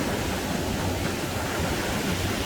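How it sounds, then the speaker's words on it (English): Steady, dense roar of big surf washing in at Daytona Beach, Florida, loud and continuous with no distinct breaks or voices. "For me, these waves are too big."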